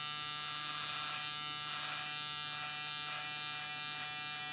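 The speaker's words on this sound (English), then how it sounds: "Two hands on the clipper so you don't jerk or drop it or anything like that" An electric beard clipper hums steadily while trimming a beard at home, a close, continuous buzz with slight shifts in tone as it moves through the hair.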